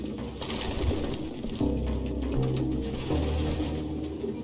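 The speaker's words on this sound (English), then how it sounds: "No human could live with all these fucking pigeons." Pigeons coo in the video game Detroit: Become Human, a steady low burbling over a constant ambient room bed, with repeated soft coos and no speech.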